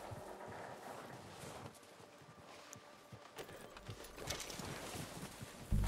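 Horse hooves clip-clop steadily in Red Dead Redemption 2, several animals walking together over a soft bed of wind-like outdoor ambience, with no talking.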